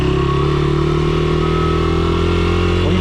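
A motorcycle engine runs steadily near a lake on a trail, with a constant loud drone and a slight pitch shift near the end.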